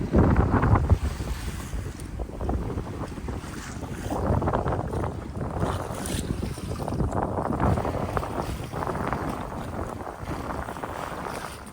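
A 9m sailboat running along the coast in an onshore wind, with steady rushing wind noise buffeting the microphone over the churn and wash of waves against the hull, loud and continuous, no voices.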